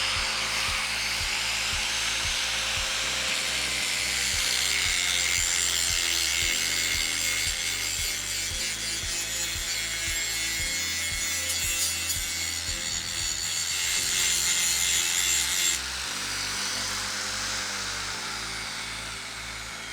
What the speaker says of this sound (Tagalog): Ready to use na ang ating grinder.